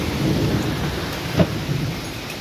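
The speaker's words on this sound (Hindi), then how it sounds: "देखो बारिश शुरू हो गई" Sudden rain begins in West Bengal with a low rumble of thunder, a steady hiss of rainfall on surfaces and a single brief louder crack near the middle, no voices.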